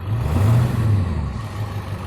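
A Ford 7.3 Powerstroke diesel engine, stock, revving up briefly from idle with a low rumbling surge that swells then eases back, close by and with no talking.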